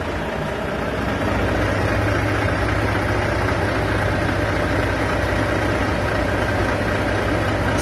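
A car's engine idling steadily at a roadside, a loud, continuous low rumble with a slight knocking texture that holds unchanged throughout, close by and with no talk over it.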